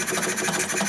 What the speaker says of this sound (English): It's a side shaft engine.